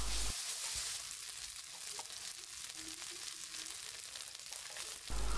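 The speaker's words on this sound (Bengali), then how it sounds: "পেঁয়াজগুলো ভেজে নেওয়া হয়ে গেলে এবার এখানে দিয়ে দিচ্ছি আদা বাটা 1 চামচ, রসুন বাটা 1 চামচ আর জিরা বাটা 1 চামচ" Fried onions sizzle in a pan after ginger, garlic and cumin pastes go in, a steady close hiss of frying with light crackles, briefly louder at the start and end as the pan is stirred.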